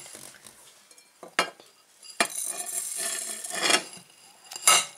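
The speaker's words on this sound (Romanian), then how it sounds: "Prima dată vom amesteca ingredientele uscate." Dry muffin ingredients with rolled oats being stirred in a bowl, giving soft scraping and clinking of a utensil against the bowl in irregular bursts, close and fairly quiet.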